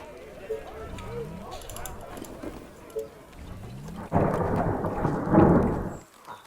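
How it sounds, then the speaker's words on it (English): A thunderstorm outside a room with the window open: distant rumbles, then a louder rolling thunder crack swells near the end over steady rain, while someone talks over it and game sounds play. "There is a thunderstorm outside, or if you can hear that."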